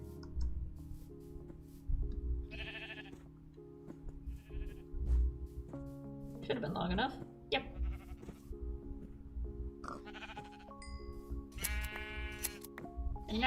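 Video game sheep on an island bleat several times in short separate calls, mixed with clicking and a brief spoken remark.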